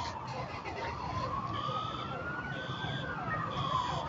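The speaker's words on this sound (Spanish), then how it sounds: "Escuchamos también las sirenas." A wailing emergency siren during a national earthquake drill in Villa de Álvarez, Colima, rises slowly in pitch and holds steady over a noisy outdoor background, with another tone faintly layered in, continuous throughout.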